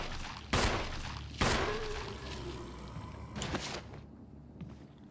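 Gunfire from a shooter video game: two sharp, loud shots about a second apart, then a softer third burst, with a faint mechanical clack between them.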